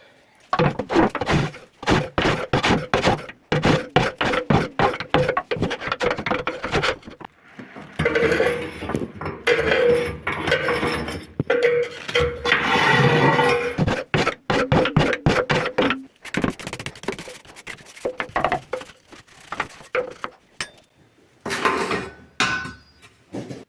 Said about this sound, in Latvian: un izkasīt atlikušos pelnus